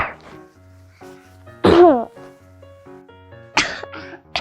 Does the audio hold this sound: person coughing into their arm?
yes